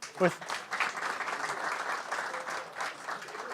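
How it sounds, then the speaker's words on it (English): A conference audience applauds the staff, a broad wash of clapping that swells right away and keeps going steadily, mixed with a few voices. "We're going to give the staff a round of applause."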